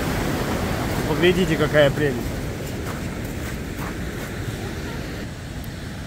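Turbulent river water rushes steadily near a dam on the Līgatne nature trails in Latvia, a broad continuous roar with wind buffeting the microphone, while someone speaks over it briefly.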